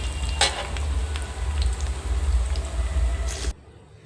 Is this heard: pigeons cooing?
no